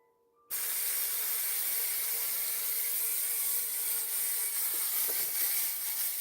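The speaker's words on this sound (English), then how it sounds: "I'm gonna take my finishing spray" Finishing spray hisses from an aerosol can onto a mannequin's made-up face, one long continuous close spray that begins abruptly and holds steady to the end.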